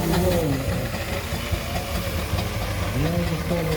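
A left-hand-steer steam roller runs at the Netley Marsh steam and craft show, its engine chugging and knocking in a steady low rhythm close by, with people talking over it.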